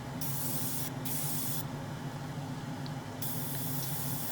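Aerosol spray paint hissing steadily in light coats onto a Hasegawa Lancia 037 Rally scale model car interior, a continuous close spray with a few brief pauses between bursts.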